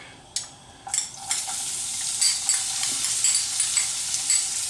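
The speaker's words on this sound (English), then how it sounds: "Let's add our garlic." Garlic hitting melted clarified butter in a pan sets off a sudden sizzle that swells into a steady, bright frying hiss. A few stirring clinks sit over it, and no one speaks.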